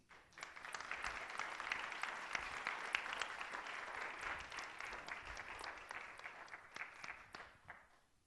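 Sustained audience applause at a policy talk in San Francisco greeting guest speaker Glen Fukushima, steady dense clapping from a sizable crowd lasting several seconds, with no voices over it.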